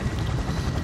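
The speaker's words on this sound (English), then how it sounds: "Welcome, chopper." Helicopter in the Gotham Knights video game arriving, a steady low rotor rumble holding at an even level throughout the brief moment.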